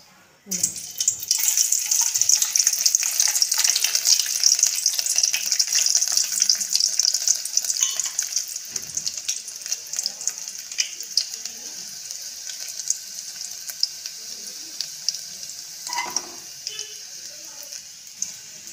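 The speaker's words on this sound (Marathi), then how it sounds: "हे बघा, तेल गरम झालेलं आहे. आता आपण याच्यात लसूण टाकू." Garlic dropped into hot oil in a pan for a moong bean vegetable dish, hissing and sizzling loudly and steadily the whole time. Occasional stirring scrapes can be heard underneath.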